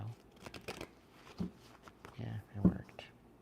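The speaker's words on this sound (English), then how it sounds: "I don't usually fan shuffle these round ones" Round playing cards being fan shuffled by hand, a few soft riffling and flicking bursts, close up and quiet, with brief noises between them.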